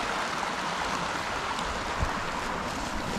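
A creek flowing outdoors on a morning hike, a steady broadband rush of running water, close and continuous, with no voices.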